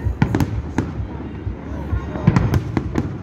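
Fireworks at the Runcorn/Widnes display in 2022: sharp booms and crackling bursts go off in quick irregular succession, fairly loud, with faint crowd noise underneath and no talk.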